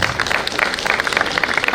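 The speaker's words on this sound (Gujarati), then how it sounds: "ખૂબ તાળીઓથી વધાવી લઈએ આપણે." An audience at a Gujarati literature festival applauds performers on stage, a continuous close patter of many hands clapping at an even level.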